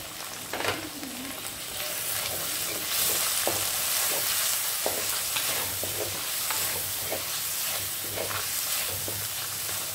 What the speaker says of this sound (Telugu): ఇప్పుడు ఆనియన్ వేసుకోండి